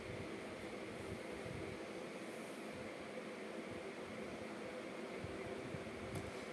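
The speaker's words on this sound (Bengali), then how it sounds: "ভালো করে আমি ব্লেন্ড করে নেব।" A blender whirs steadily as it mixes a cup of full-cream milk with a cup of sugar, giving an even, fairly quiet motor hum with no pauses.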